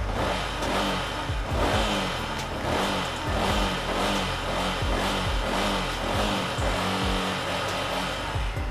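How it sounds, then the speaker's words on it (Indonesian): A used motorcycle with about 73,000 km on it idles steadily up close, its engine giving a smooth, even, rhythmic putter without revving. "Untuk mesin masih sangat halus."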